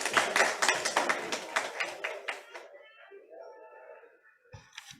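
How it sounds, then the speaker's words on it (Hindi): Audience applause for Manish Rathi at a Guar Day 2021 event stage, a burst of dense clapping that thins out and fades within about three seconds, followed by faint background sounds and a brief tap. "तालियां मनीष राठी जी के लिए भी"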